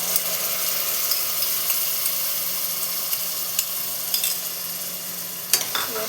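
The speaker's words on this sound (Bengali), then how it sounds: "মশলাটা ভালো মতো কষাতে হবে।" A ground tomato and green chilli paste sizzles steadily in a pan of oil for a mustard fish curry, a constant close hiss with occasional light spatula scrapes and clicks.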